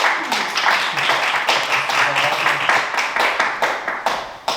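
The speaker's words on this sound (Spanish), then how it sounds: "pues un aplauso para Dariana" A small audience at an Indie Hackers meetup claps for a speaker, with individual hand claps audible in quick uneven rhythm, fairly close, while a voice talks faintly beneath.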